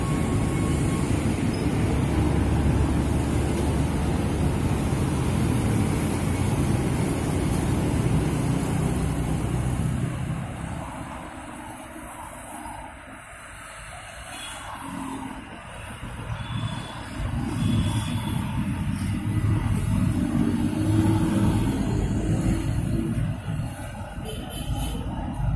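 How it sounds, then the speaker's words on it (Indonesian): A Sipirok Nauli bus idles and rumbles at a Palembang bus station, a steady low engine drone that dips briefly mid-clip and then swells back, with traffic and station noise around it. "Tampak di kejauhan ada satu unit bis Sipirok Nauli"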